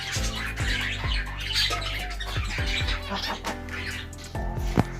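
Pet birds kept in a yard, including pigeons, squawk and cluck in repeated harsh bursts, loud and close, with overlapping calls throughout.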